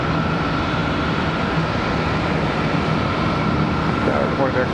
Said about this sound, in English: Here comes our American 737 off to Belize City